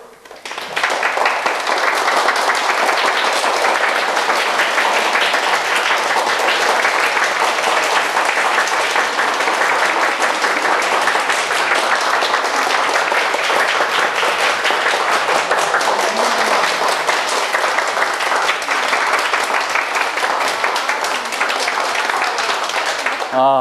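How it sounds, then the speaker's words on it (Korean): An audience at a science lecture on sound claps in unison during a clapping game, loud and sustained for over twenty seconds with an even, dense patter of many hands. "자, 준비해 주십시오. 박수!"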